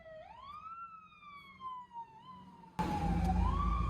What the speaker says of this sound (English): Oh, it's a fucking ambulance.